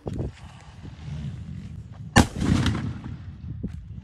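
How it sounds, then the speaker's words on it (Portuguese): A São João 'batom' firecracker blows apart a watermelon outdoors: one sharp, loud blast about midway, preceded by faint rustling and followed by a rumbling debris tail and scattered thuds. "E a explosão dessa bombinha foi das boas, foi surreal."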